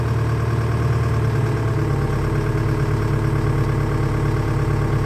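CAT 206B excavator diesel engine idling just after start-up following a long period unused, a steady low rumbling drone, close and continuous with no talk.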